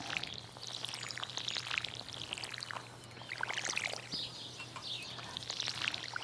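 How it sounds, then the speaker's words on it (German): Water pours from a watering can over crop fields in the farming game Stardew Valley, a soft trickling splash in repeated bursts over a low steady hum and faint bird-like chirps, with no talking. "wir gießen schon mal unsere Felder"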